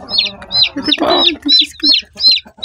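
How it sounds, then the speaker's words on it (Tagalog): A third batch of newly hatched chicks giving rapid repeated high peeping chirps, close and clear, with soft clucking from the mother hen in the middle. "Bagong sisiw. 3rd batch na"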